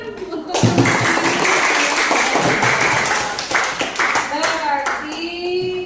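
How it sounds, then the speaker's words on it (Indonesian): A group of students claps hands together in a dense, sustained burst of applause in a classroom, with children's voices chattering over it and a few scattered claps trailing off. "Tepuk tangan untuk"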